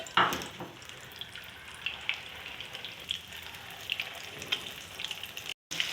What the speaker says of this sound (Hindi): ये कबाब मैं अंडे में फ्राई करूँगी